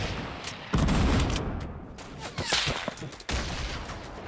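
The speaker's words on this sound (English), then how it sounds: "Non-stop nade spam by the two of them." Grenade launcher explosions in a Fortnite match, with a close, loud barrage of booms and crackling blasts in quick succession, then a sharp burst near the end.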